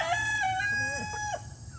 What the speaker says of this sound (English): We have some chickens.